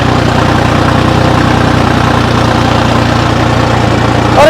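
A John Deere tractor engine pulling a 10 ft rotavator runs loud and steady at close range, a constant low idling-like rumble with vibration throughout and no voices.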